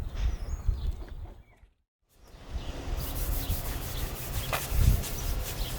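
Rubbing and wiping across filled and sanded spots on a boat hull, a steady close scrubbing texture with a brief pause midway, then continuing with a small bump near the end.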